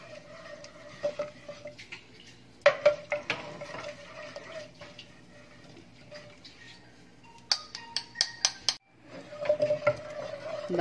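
A hand churner (mathni) mashes cooked chana dal and spinach in a pot, producing quiet bursts of rapid knocking clatter and wet stirring against the vessel, separated by near-silent pauses.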